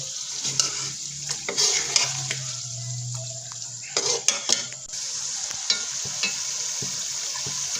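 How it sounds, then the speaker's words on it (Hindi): Yogurt is stirred into a sizzling Punjabi chicken karahi, a constant hiss of frying with scraping spoon strokes and metal clinks against the pan, close up and without voices. "ये 1 कप इसमें दही ऐड करेंगे, इससे टेस्ट बहुत अच्छा हो जाएगा।"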